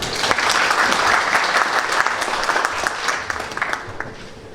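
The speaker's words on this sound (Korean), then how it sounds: "큰 박수로 맞아주시기 바랍니다" An audience at a careers seminar applauds to welcome a speaker to the stage, a dense, close burst of many hands clapping that holds steady, then gradually thins and fades near the end.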